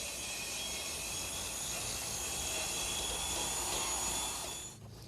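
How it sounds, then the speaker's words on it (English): A circular saw fitted with a plywood blade cuts a triangular piece of greenhouse glazing, a continuous high whining drone that runs steadily and then drops away as the cut finishes. "I'm using a plywood blade in my circular saw."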